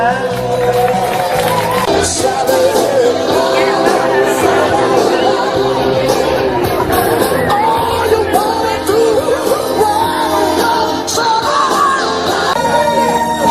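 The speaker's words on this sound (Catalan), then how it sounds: "Ole, fort aplaudiment" Festival crowd at a neighbourhood summer festa major near the Sant Salvador hermitage in Aiguafreda, cheering, yelling and whooping loudly and continuously, a dense near wall of voices with music-like tones mixed in.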